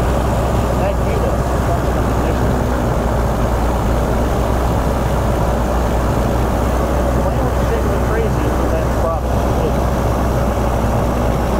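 A 1979 Grumman Tiger's engine drones loudly and steadily during a run-up, with a broad, rough rumble. The engine is near and constant throughout, and faint talk is buried beneath it.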